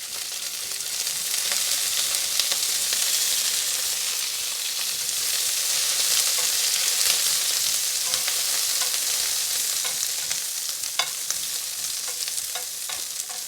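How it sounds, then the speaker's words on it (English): Asparagus fries in olive oil in a hot pan, giving a steady, loud sizzle that runs without a break, with faint stirring and occasional pops and clicks on top. "All I need is a nice hot pan, and I'm using some olive oil to cook this asparagus in."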